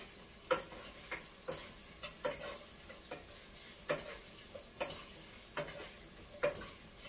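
A salmon head cooking in a pan, with ginger and lemon, gives a quiet sizzle broken by a string of sharp, irregular taps and clinks of a utensil against the pan, faint and close, with no voices.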